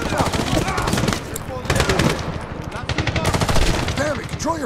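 Rapid automatic machine gun fire in the Medal of Honor (2010) video game, dense overlapping bursts with combat noise and shouted voices throughout.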